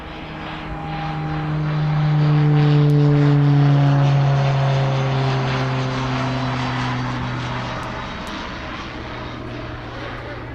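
Beechcraft 1900 turboprop airplane passing: a loud, steady propeller-engine drone with strong humming tones that swells, then slowly fades as the aircraft moves away.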